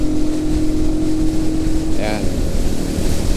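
A 2026 Rusi Flash 150X V3 motorcycle accelerates in sixth gear while overtaking, its engine drone rising under heavy rushing wind noise at close range, with a brief spoken word.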